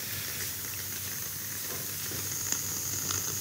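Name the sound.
sonified star oscillations, 4 years in 2 minutes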